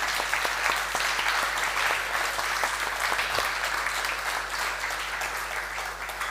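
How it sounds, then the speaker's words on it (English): An audience gives the event hosts a round of applause, a dense, steady wash of many hands clapping that holds evenly for several seconds over a faint low hum, with no voices. "I think we should give them all a round of applause."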